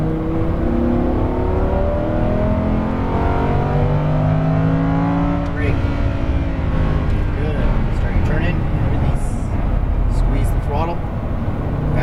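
A Lamborghini Huracan LP610-4 engine pulls hard on a race track, its rising drone and revs steady and loud throughout, with a driving coach's voice talking over it.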